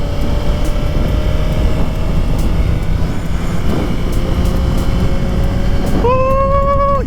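A 2023 Suzuki GSX-R1000 motorcycle accelerates and shifts gears without the clutch, giving a loud, sustained roar mixed with wind rush, followed near the end by a sharply rising engine whine as it revs up.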